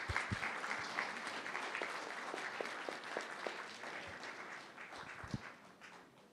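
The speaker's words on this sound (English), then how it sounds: "Let's give them a round of applause." An audience at a church birthday celebration gives a steady round of applause, a dense wash of many hands clapping that starts full and slowly thins and fades over several seconds, heard from a distance in a large room.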